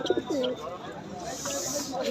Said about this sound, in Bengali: কবুতর বা পিজন যাগুলো ছিল আপনাদেরকে শো করে দিলাম